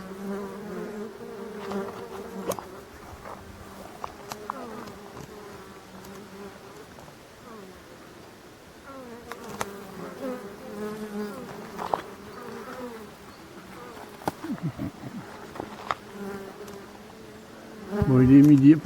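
Swarm of wild local black honeybees in Brittany buzzing steadily around a hollow-tree hive in a marsh, a continuous close droning hum with individual bees passing near, growing louder and closer at the end.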